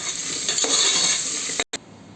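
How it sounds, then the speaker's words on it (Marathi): Potatoes frying in a pan for a vegetable paneer biryani, a steady bright sizzle with soft stirring scrapes, briefly cut to silence near the end before the sizzle resumes. "मग बटाटा टाकते। याला पण फ्राय करून घेऊया।"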